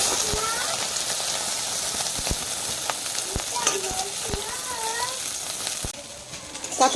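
An egg fries in a pan with a steady, close sizzle and crackle, punctuated by sharp taps and scrapes of a utensil, and faint voices murmur in the background.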